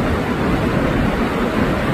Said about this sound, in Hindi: लेकिन इस वक्त मैं आपको आबशार का नज़ारा दिखा